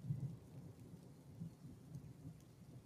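Rain falling in a video game, a soft continuous patter with low rumbling underneath, steady and fairly quiet with no voices.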